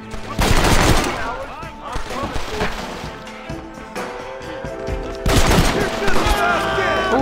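Heavy gunfire rattles through an ambush shootout in Red Dead Redemption, with loud overlapping shots and volleys that surge at the start and again near the end, while voices talk under the noise.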